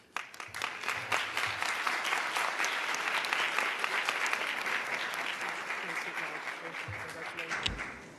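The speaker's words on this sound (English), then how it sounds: "We now kindly ask for a round of applause to recognize the job that the Security Council Counterterrorism Committee did." Audience applause in a Security Council counterterrorism committee session, a loud sustained wash of many clapping hands that rises quickly, holds steady, and tapers with a few final claps.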